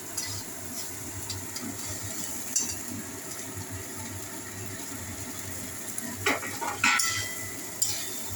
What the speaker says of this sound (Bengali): এবারে এই সবজিগুলোকে দিয়ে দিচ্ছি